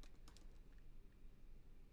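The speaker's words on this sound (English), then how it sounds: "just typing @" Fingers tap out a quick burst of keystrokes on a computer keyboard, then a few scattered clicks, soft and faint against a low room hum.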